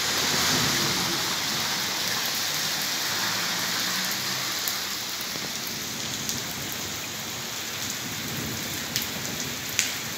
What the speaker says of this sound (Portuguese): tá uns trovãozinho até meio fraco, mas tá tendo uns trovãozinho aí